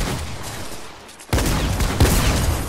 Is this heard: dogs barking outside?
no